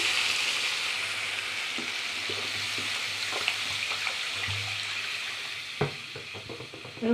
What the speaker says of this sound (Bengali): এবার আমি জল দিয়ে দিচ্ছি পরিমাণ মতন